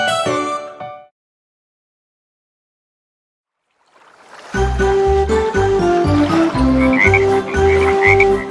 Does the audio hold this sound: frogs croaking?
yes